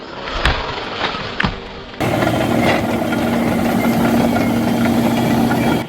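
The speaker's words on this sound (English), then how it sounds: "This is the John Deere 648H, a tracked beast made for forest domination" A John Deere 648H tracked forestry machine runs in the woods, its engine settling into a loud, steady rumbling drone after a few sharp knocks and clunks.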